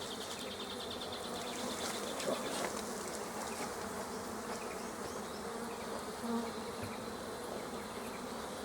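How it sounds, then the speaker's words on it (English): Dense, steady buzzing of many honey bees pouring out of a hive super close by, a continuous droning hum with occasional nearer passes. "you'll see the bees pouring out"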